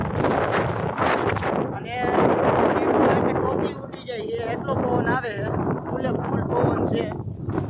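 Strong gusty wind blows across a village, buffeting the microphone in a steady roar, with a person talking over it nearly throughout.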